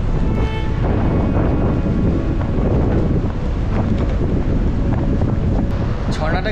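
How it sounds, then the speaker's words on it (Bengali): Strong wind roars and buffets the microphone at Nohkalikai waterfall near Cherrapunji in Meghalaya, making a loud, continuous rushing noise close by. A voice can be heard faintly underneath. "খুব জোরে হাওয়া দিচ্ছে, দেখতে পাচ্ছেন।"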